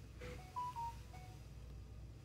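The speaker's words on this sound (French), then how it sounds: "Qu'est-ce qu'il me veut? Mon téléphone." A phone in the Little Nightmares game gives a short series of faint electronic beeps and tones, quick notes over a low background hum, with no talking.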